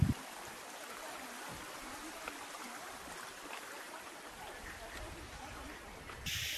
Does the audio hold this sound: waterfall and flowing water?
yes